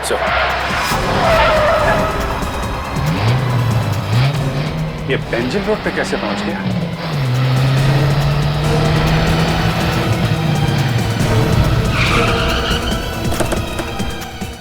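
A car turns around on a road with its tires skidding and squealing, the engine roaring close and loud for most of the stretch while someone speaks over it.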